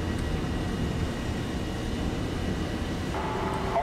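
In War Thunder, a Hawker Hunter jet's engine roars steadily on takeoff, a low, even rumble with a faint higher whine rising toward the end.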